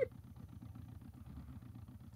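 A car engine idles in the BeamNG driving game, a low steady rumble with a faint regular pulse, quiet and continuous.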